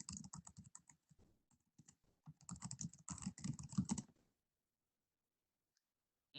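Fast keystrokes on a computer keyboard as a search word is entered, a dense run of clicks for about four seconds before falling silent, close and moderately loud with no talk.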